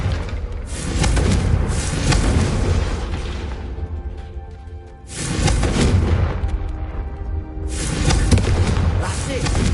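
A Confringo blasting spell goes off in a video game, loud and booming, with two heavy rumbling explosions that swell, fade, then swell again into a third, nearly continuous roar.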